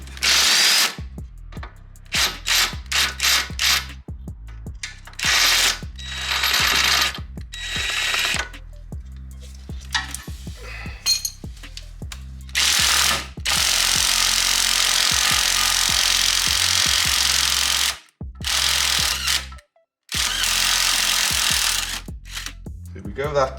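A ratchet clicks in quick bursts, loosening the lower shock absorber bolts on a Subaru WRX Impreza during a coilover install, with rapid pawl chatter separated by short pauses and a longer continuous stretch of cranking; close and clear.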